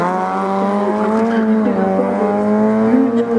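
A race car on a slalom course at Lessay holds a loud, steady engine note with shifting harmonics as tires squeal through the turns, close and continuous throughout.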